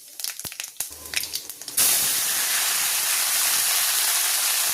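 Panch phoron spices for an okra curry hit hot oil: a few light clicks and taps, then a sudden loud, close, sustained sizzling hiss that carries on alone.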